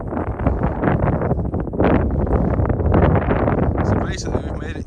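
Wind gusting at an estuary, a strong continuous roar buffeting the microphone throughout, with a voice speaking over it.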